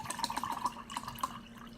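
Cold water poured from a bottle into lemonade, heard as close, bright gurgling glugs and splashes in an uneven rhythm that tails off near the end.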